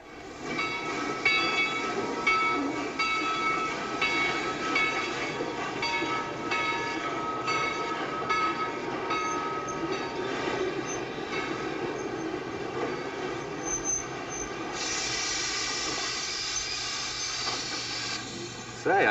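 A train rolling along a railroad, with a loud, steady rumble and clatter that runs unbroken throughout at close range, and a brighter horn-like tone rising near the end.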